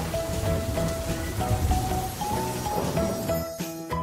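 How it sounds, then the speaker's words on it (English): Rain falls steadily in a cartoon story about children playing outside, a dense continuous patter with faint tonal music underneath and no voices. "It's raining, and Peppa spots her rainbow umbrella"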